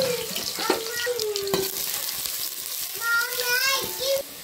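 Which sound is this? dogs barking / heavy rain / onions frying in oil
onions frying in oil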